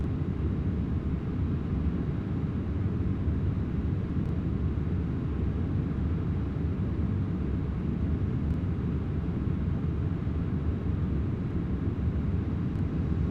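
A jet airliner in Microsoft Flight Simulator X gathers speed on its takeoff roll, a constant, fairly quiet broadband engine roar and rumble that stays even from start to finish.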